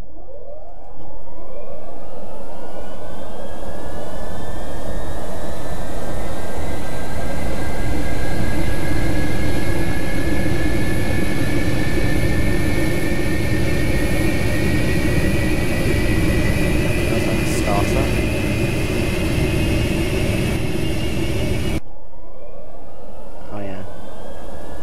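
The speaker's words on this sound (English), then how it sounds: "let's start up the engines, and I do believe it's by pushing these two buttons in" Two jet engines of an English Electric Canberra spool up in a loud, rising whine, with several tones sweeping upward and then holding steady for about twenty seconds before stopping abruptly.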